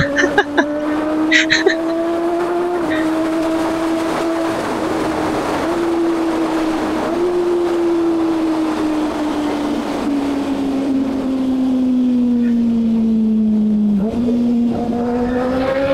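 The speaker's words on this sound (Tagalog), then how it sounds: "Sarap ng downshift niya. Sarap ng tunog." A Kawasaki Ninja ZX-6R motorcycle with an Austin Racing exhaust revs steadily at close range, its pitch rising and dipping through gear changes, with a brief drop as it downshifts near the end.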